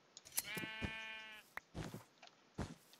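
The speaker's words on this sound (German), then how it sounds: "Hallo, Babyschaf!" A baby sheep in the video game Minecraft gives one clear, wavering bleat, close and fairly quiet, followed by a few short soft clicks and thumps.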